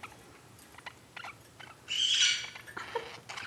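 Two pet birds chirp and tweet indoors in short, high bursts, with a brief louder flurry midway, close by and fairly soft with scattered small rustles.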